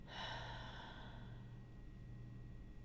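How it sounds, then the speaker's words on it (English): A single deep exhale during a guided breathing exercise, a soft airy breath out that starts stronger and slowly fades, quiet and close with no talking. "Hold it and exhale."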